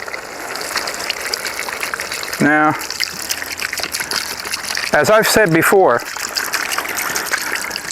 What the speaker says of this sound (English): we're just going to put a little bit of water in it.